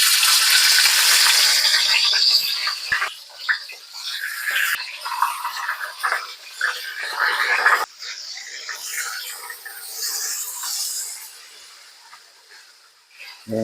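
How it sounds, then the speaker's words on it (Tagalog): Pork steak frying in a pan gives off a loud, steady hissing sizzle with crackles and scraping stirs, easing off toward the end, and a voice speaks briefly now and then. "prito muna natin to"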